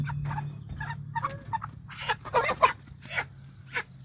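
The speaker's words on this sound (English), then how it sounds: "we're going to start this process by getting us a chicken caught" Cornish Cross meat chickens squawk and cackle in a burst of repeated, fairly close calls while a bird is caught for butchering on a homestead, over a low steady hum.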